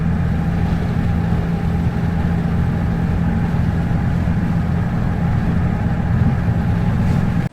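A BMW G8x car with a full modular catback exhaust and stock downpipes, a deep, steady idle rumble held at a constant loud level before cutting off abruptly.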